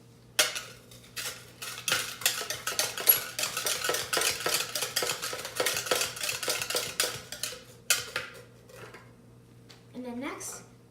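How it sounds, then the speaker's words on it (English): Utensil stirring banana bread batter of sugar, beaten egg and vanilla in a bowl, with a steady run of close scraping, clinking strokes that pause near the end. "Then I'm going to mix it."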